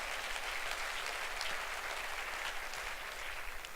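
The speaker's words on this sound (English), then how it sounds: "Please give that young man another round of applause." Gala audience applauding steadily throughout, a dense even wash of clapping with no talk over it.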